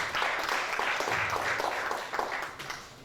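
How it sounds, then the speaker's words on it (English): Audience at a Rotary Club investiture ceremony in Nigeria clapping, a dense burst of applause that holds for a couple of seconds and then thins out and fades. "Please let's clap."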